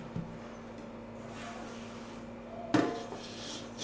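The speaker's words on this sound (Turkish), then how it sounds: "Şimdi ben şöyle bir kelepçeli kalıbın içine yemeğimi güzel bir servis" Chicken and rice served into a metal springform pan in a kitchen, faint scraping and shuffling followed by one sharp clatter of utensil on metal with a short ring and a few smaller knocks.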